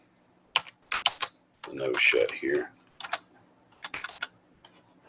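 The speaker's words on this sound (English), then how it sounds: "I'm using the up arrow key on my keyboard to cycle through commands that I've already typed." Rapid bursts of keystrokes on a computer keyboard while entering networking commands, with clustered clicks and short pauses, close and clear; a voice briefly speaks between the bursts.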